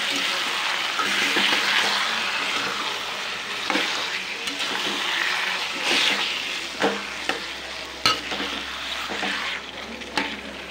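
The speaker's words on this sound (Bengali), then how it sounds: "আমি এখন ম্যারিনেট করে মাংসটা দিয়ে দেবো। এটাকে ভালো করে মিশিয়ে নেব।" Marinated chicken pieces are added to onion and garlic already browned in a pan and stirred together, producing a loud, dense sizzle with intermittent scrapes and knocks against the pan.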